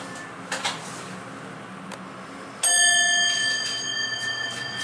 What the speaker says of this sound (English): Oh, he put EPCO chimes in this one with the dinner bell.